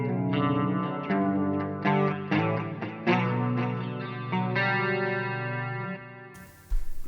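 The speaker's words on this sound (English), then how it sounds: "in the FX loop, I have a chorus, a delay, and a reverb." A clean Soldano guitar amp rings out with chorus, delay and reverb in the effects loop, picking a sequence of shimmering notes and chords that trail into echoing repeats before a brief noise at the end.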